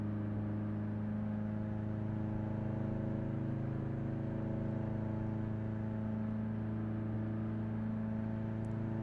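A Jeep Willys Civilian engine in Car Mechanic Simulator 2018 holds a steady, loud, high-revving drone at speed, a continuous mechanical whir without pauses.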